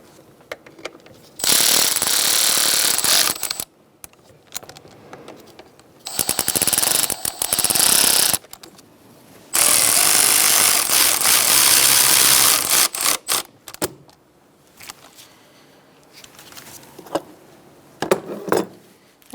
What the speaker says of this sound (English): So now I'm going to tighten these up and torque them to 80 inch-pounds.